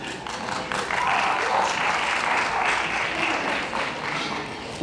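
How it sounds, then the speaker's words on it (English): Audience applause at an outdoor community welcome-to-country event in Sydney, a steady dense wash of many hands clapping that swells and then fades slightly near the end. "I'm not used to people applauding me either"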